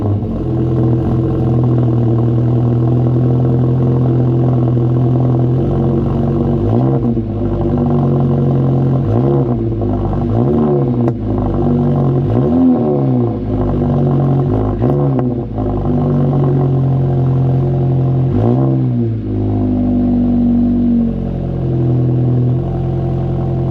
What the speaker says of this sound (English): see if we can get a little exhaust clip for you. Cold start.